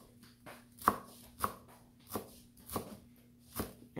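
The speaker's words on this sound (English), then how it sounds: "And this is the way how I cut the dill." Knife chopping fresh dill on a cutting board, six or seven crisp evenly spaced chops about half a second apart, close and clear with no talking.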